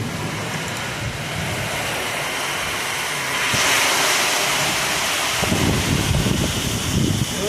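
A heavy rainstorm with strong wind lashes down. A constant broadband roar swells louder halfway through, and low gusty thumps of water and wind batter close by near the end.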